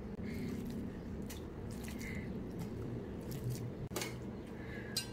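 Wet squishing and soft plopping of marinated chicken pieces set one by one into a pot for dum biryani, close up and steady over a constant low background hum.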